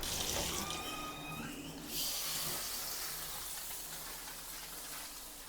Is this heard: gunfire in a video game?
no